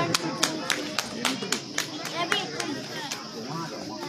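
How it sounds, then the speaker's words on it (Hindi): At a Ramlila lucky draw, scattered audience clapping comes in sharp, irregular bursts, with children's voices and crowd chatter mixed in close by. "सभी दर्शक क्लब के सदस्य तालियों से अभिनंदन करते रहें, तालियों की कोई कमी ना रहे।"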